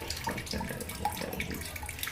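Water drains from an eight-litre home water purifier tank that is due for servicing. It makes a steady, soft trickling and splashing flow, heard alone with no talking.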